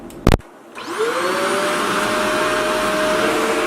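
A Shark vacuum cleaner switches on after a brief knock and runs steadily at a middle suction setting on thin carpet, with a loud, even whine and a rising motor tone that holds alone.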